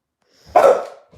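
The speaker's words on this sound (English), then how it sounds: "Stop barking, Dylan, please." A dog named Dylan lets out a single sharp, close bark, then a faint trailing sound.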